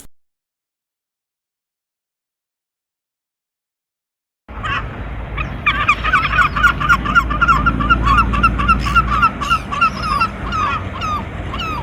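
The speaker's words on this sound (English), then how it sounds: "silver gulls basically having a good old scrap at the bottom" After a few seconds of silence, a flock of silver gulls erupts in busy, overlapping squawks and harsh calls as they squabble, steady and fairly close.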